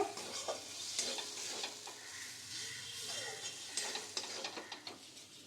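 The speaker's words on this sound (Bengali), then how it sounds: "এরপরে মশলাটা খুব ভালো করে কষিয়ে নেব" Spice paste (masala) sautéed in a pan for katla fish fingers, faint sizzling under repeated scraping spatula strokes in an uneven rhythm, fairly quiet and close.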